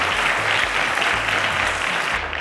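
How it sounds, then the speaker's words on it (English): A studio audience at the Cowbellpedia quiz show applauds a contestant, the clapping loud, close and continuous throughout with no pause or letup. "A round of applause to Ayibatari"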